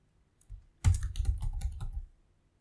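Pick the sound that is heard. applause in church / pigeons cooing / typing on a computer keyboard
typing on a computer keyboard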